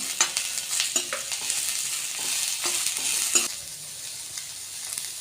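Capsicum, carrot and cabbage stir-fry in a hot pan for Hakka noodles, with a steady sizzle broken by scraping spatula strokes and tossing, then a softer sizzle near the end.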